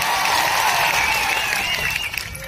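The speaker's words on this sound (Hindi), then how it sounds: "एक बार जोरदार आपके लिए तालियां बजा दी जाए।" Loud, sustained audience applause at an evening political rally in Dungarpur–Banswara, a dense wash of clapping from a large crowd that fades slightly toward the end.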